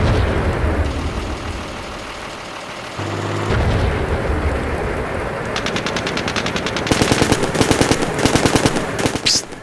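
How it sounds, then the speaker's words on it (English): Rapid machine-gun bursts from a tank's gun firing on enemy troops in the combat simulator Steel Beasts Pro PE, loud and close, with a heavy rumble and blast early on before dense, repeated gunfire hammering through the latter half. "my gunner is engaging enemy troops"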